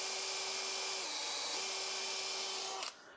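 Steady high-pitched whine of a power drill boring through a steel rivet head on a 1949 Ford F5 Coleman 4x4 truck, loud and close, continuous for about three seconds before the motor cuts off abruptly.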